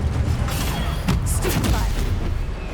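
Incendio and other spell-casting effects in Hogwarts Legacy, a steady blast of fiery, booming magic lasting the whole stretch with a few brighter crackling bursts, loud and close, with spell names called out over it.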